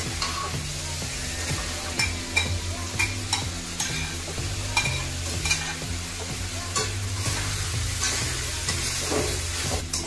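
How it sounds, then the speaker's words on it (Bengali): Pre-fried raw plantain and potato stirred into a sizzling spice masala for a Bengali rohu fish curry, a steady close fry hiss with repeated spoon scrapes and clinks against the pan throughout. "এবার এই মশলার ভিতরে আমি প্রথমে তরকারিগুলি ভেজে নিলাম, অর্থাৎ কাঁচা কলা এবং আলু, সেটাই দিয়ে দেব।"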